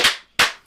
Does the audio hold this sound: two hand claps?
yes